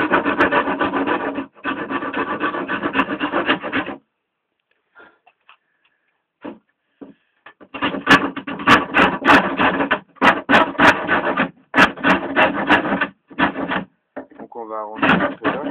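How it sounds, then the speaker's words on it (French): A coarse-cut wood rasp files a piece of wood for a homemade terrarium, making loud, gritty rasping strokes in repeated bursts, separated by a long quiet gap with faint taps. "on s'équipe d'une lime à bois à gros cran, comparé à une lime à ferraille."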